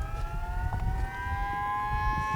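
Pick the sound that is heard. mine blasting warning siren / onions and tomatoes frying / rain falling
mine blasting warning siren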